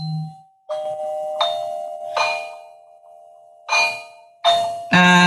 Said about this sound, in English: That's Doug trying to phone me.